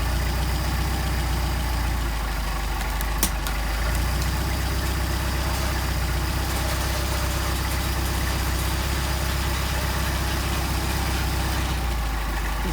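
Mercedes 190SL engine with Solex carburetors idling steadily and close by, a continuous low rumble with a faint tick partway through and no talk over it.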